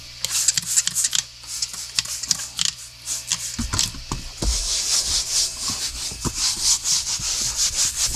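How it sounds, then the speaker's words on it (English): Steady scrubbing of an SUV interior with a white scrubber pad, a close, continuous rubbing and brushing sound with quick repeated strokes. "You always got to hit it with this white scrubber here."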